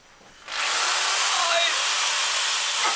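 A power drill on hammer setting kicks in after half a second and runs loud and steady to the end, a dense buzzing grind with no break.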